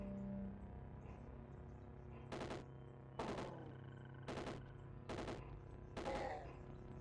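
Five bursts of rapid gunfire from the video game Caves of Qud, each about half a second long, spaced evenly over steady background game music.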